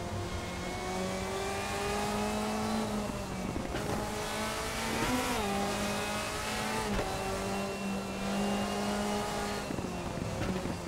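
The engine of a 2005 Mercedes DTM race car in RaceRoom, a racing video game, drones and revs steadily, loud and close, its pitch dipping and climbing through repeated gear changes and lifts over about eleven seconds.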